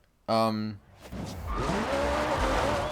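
A short electronic tone, then a 900-horsepower race car engine in Forza Horizon 2 revs up and screams with squealing tires, loud and sustained.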